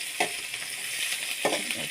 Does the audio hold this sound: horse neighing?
no